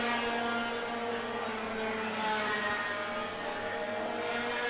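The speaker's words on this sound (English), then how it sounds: "Someone's lost a muffler out there." A racing kart at a championship round runs with its muffler gone, a loud, steady, buzzing engine drone with harsh harmonics holding close and constant for the whole stretch, no voices on top.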